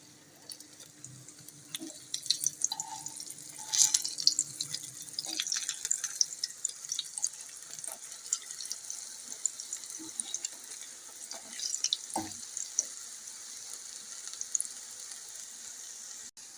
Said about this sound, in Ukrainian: обсмажується до рум'яної скоринки на одній стороні, тоді нам потрібно перевернути на іншу